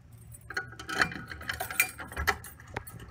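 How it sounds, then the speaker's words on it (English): Keys on a small key ring jingle and clink in short irregular bursts close by, handled while unlocking a Grinnell RMS-1T fire alarm pull station, with a few sharp metallic taps over a quiet background. "we'll get the keys and we'll go ahead and open it up. I'm using my small key ring today."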